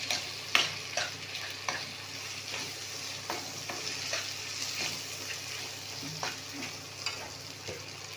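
Boiled dal and peanuts sizzle in a hot tempering of oil with asafoetida and ginger-garlic, a steady close frying hiss broken by stirring clinks and scrapes, no talk.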